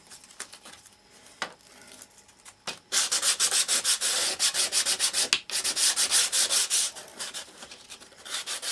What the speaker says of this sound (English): Bit of sandpaper.